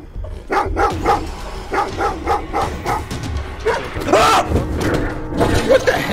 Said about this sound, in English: Shut up, dog! Somebody shut that dog up!